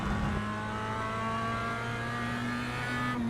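Mazda MX-5 race cars in a sim racing video game at Laguna Seca hold a steady, droning engine note at high revs, with a slight pitch change near the end and no voices.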